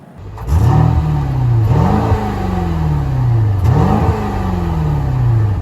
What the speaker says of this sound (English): It also has a kind of scary sound coming out of the exhaust.